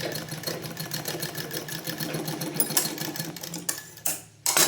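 Sewing machine stitching fabric in a beginners' stitching class, a steady rapid mechanical chatter running close and continuous, with a few brief pauses and bursts near the end.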